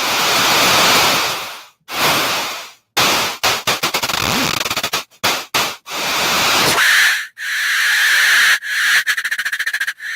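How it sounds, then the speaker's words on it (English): Synthesized drum sound reshaped into wave-like swells: loud noisy surges rise and cut off abruptly, some long and washing like surf, others short choppy bursts, alone without voices. "you can turn it into kind of something that's more like waves or swells"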